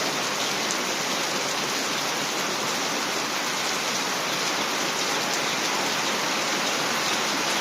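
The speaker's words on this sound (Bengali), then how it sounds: "যে বৃষ্টি হইতেছে আমাদের অঞ্চলে, দেখেন কি অবস্থা বৃষ্টির" Heavy rain pours steadily over a Bangladeshi village, a loud, unbroken hiss of drops hitting roofs and ground that holds at constant strength with no voices.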